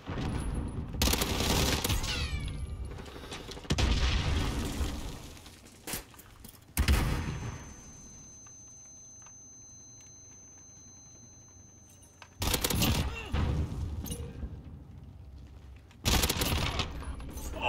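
A Vector submachine gun in a video game fires loud rapid bursts of several seconds each, separated by quieter gaps filled with faint mechanical clicks and handling noises.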